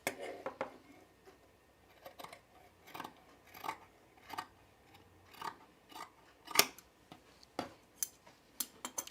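Scissors snip through fabric to trim a sewing seam allowance, a series of about a dozen crisp, close cuts at a steady, unhurried rhythm, quiet between each snip.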